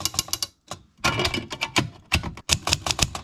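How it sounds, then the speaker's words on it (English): A clean-looking vintage German-brand typewriter clatters with rapid, close key strikes in irregular bursts, separated by brief pauses. "Got a nice vintage typewriter, really clean looking."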